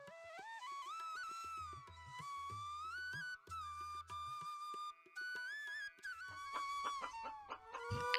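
Hens in a garden cluck and cackle in rising, wavering calls over a steady rhythmic music bed, with repeated short clucks and a brief crow-like cry near the end.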